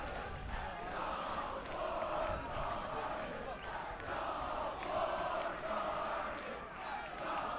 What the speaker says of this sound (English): as the crowd goes wild